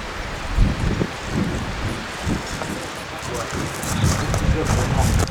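A light wind on a mountain trail rushes steadily past the microphone with low buffeting gusts and a soft airy hiss, constant and fairly loud throughout.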